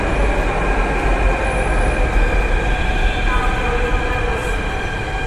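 An underground metro train in Jaipur rushes into the station at speed, a loud, sustained roar of wheels and rails with a faint squeal and steady rumble from start to end.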